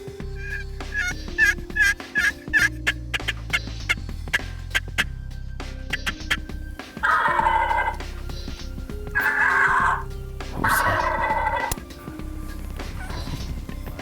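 Wild turkeys gobble in Nebraska hunting country, with several loud rattling gobbles in quick bursts near the middle. Earlier there are softer calls and clucks, with no talk.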